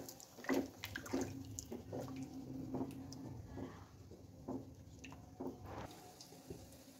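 Water splashes and patters into a cooking pot set to boil, about one to one and a half glasses' worth, with uneven gurgles and drips, close by and without talk.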